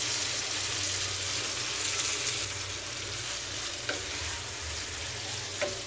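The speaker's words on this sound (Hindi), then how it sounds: "इसमें हम शामिल कर देंगे कलेजी। और इसको अच्छे से इसके साथ फ्राई करेंगे" Chicken liver frying in a pan with ginger and garlic gives a steady, close sizzle throughout, broken by a few sharp clicks of stirring, with no talking.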